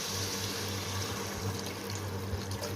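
Water being poured into a cooking pot while making pansit bato, a continuous splashing, gurgling stream heard close and steady for a few seconds, with no talk.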